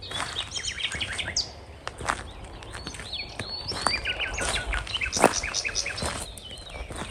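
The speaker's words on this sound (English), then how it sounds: "I can hear turtle doves calling, purring." Outdoor birdsong in Menorca with several chirps and calls scattered over a soft background, including low cooing purrs of turtle doves, with occasional brief rustles.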